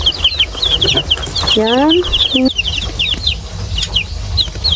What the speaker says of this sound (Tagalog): may mga bagong sisiw na naman si mama